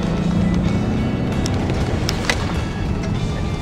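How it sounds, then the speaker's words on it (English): Jaguar XF engine growling at speed, a dense, steady low rumble mixed with road and wind roar throughout, with a few faint clicks on top. "listen to the growl"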